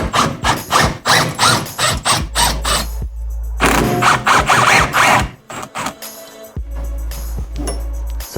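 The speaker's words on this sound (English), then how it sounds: "hold the top with a 13mm and undo the bottom nut with a 14mm" Ratchet wrench working a shock absorber nut on a Ford Focus Mk1 suspension, loud close ratcheting in fast repeated bursts of clicks with brief pauses and a low hum between strokes.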